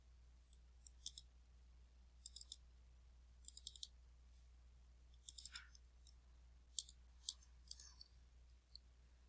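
Crisp, quiet computer mouse clicks come in small clusters of two or three, spaced a second or two apart over a faint low hum, while a file attachment is uploaded.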